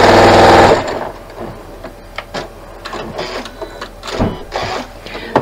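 Sewing machine stitching down the second side of a quilt-block seam, one loud continuous burst for under a second at the start, then only quiet handling and faint fabric rustles.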